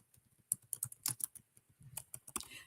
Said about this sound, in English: I'm going to type this in the chat.